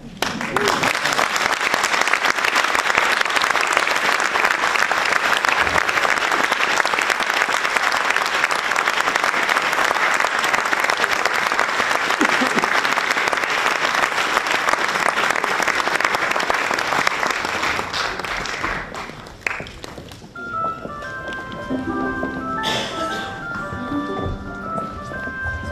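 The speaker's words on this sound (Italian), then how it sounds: "Ed è per questo che ora spero di essere applaudita." A theatre audience claps loudly and densely for about eighteen seconds after a Goldoni monologue, then the applause fades and a voice begins speaking over quiet background.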